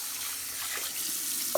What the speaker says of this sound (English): I'll rinse it, then I'll pour it, and I do it 3 times